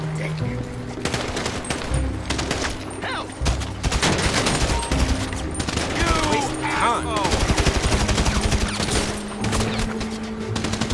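Rapid gunfire from a GTA 5 zombie-outbreak mod cracks through most of the stretch in dense bursts and volleys, loud and near, with voices and game sounds mixed underneath.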